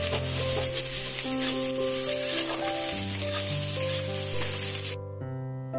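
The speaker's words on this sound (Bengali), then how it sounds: "দিয়ে এটা আমি ভাজা ভাজা করবো পেঁয়াজটা কিছুক্ষণ" Sliced onions sizzle steadily in a pan of oil while being stirred, a constant hissing fry heard close, with background music playing throughout.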